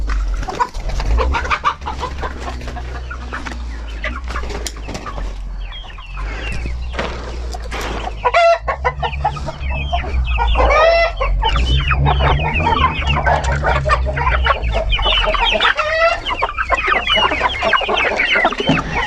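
A flock of Brahma chickens clucks and chirps continuously up close, chicks peeping over low hens' clucks, with a steady low hum underneath.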